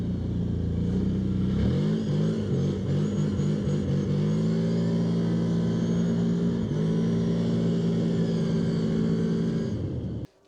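A GOES Terrox 1000 ATV engine revs under throttle, rising in pitch through several quick blips and then holding a steady, droning high rev before cutting off abruptly at the end.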